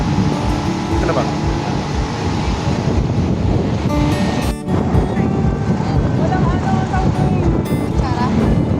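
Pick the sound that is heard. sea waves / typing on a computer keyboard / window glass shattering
sea waves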